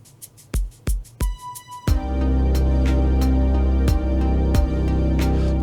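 An ambient lo-fi beat plays back in Reason, opening with a few sparse percussive hits and a tone before a full sustained layer of pads, bass and steady drums comes in.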